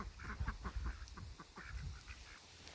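Farm ducks quacking faintly in the distance, a scattered series of low honking calls repeating irregularly across a quiet outdoor background.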